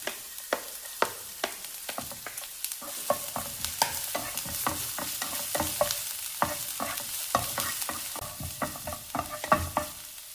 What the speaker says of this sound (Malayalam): ചൂടായ പാനിലേക്ക് ഒരു ടീസ്പൂൺ വെളിച്ചെണ്ണ ഒഴിച്ചു കൊടുക്കാം അതിലേക്ക് ചെറുതായിട്ട് അരിഞ്ഞ ഇഞ്ചി ചേർക്കാം